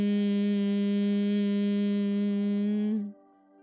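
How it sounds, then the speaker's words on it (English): Soft, steady nasal hum made by exhaling through the nose with the mouth closed, holding one tone for about three seconds before it stops, close and alone. "exhale through your nose while keeping your mouth gently closed, creating a soft nasal sound, slightly louder than your speaking voice"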